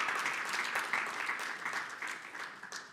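Audience at a debate organisation's tenth-anniversary celebration in a Kigali hotel breaking into steady, fairly distant applause that runs throughout and tapers slightly at the end.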